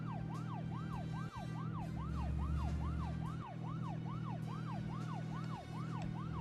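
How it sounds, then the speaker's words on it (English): A police car siren in the video game Deadly Premonition wails in a fast, regular rising-and-falling cycle over a steady low engine drone, loud and close, with a few brief dips. "Hitting the boost lets me turn on the siren."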